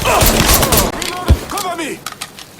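In a Mafia 3 video game shootout, loud, dense gunfire bursts rattle close by, with a heavy thud partway through, as characters shout over the shooting.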